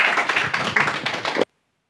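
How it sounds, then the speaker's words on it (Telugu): An audience at a church gathering claps to welcome a speaker, a dense burst of applause lasting about a second and a half that then stops abruptly. "అందరూ చప్పట్లు కొడుతూ ఆహ్వానిద్దాం."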